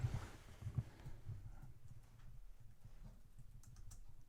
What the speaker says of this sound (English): We'll type it. Yeah. Let's type hamsters